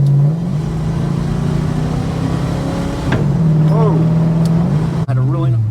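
A car with a failing automatic transmission runs steadily with a continuous engine drone, then shifts gear with a brief jolt and change in pitch; a person talks over it.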